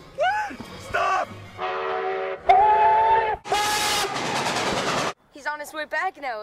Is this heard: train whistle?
yes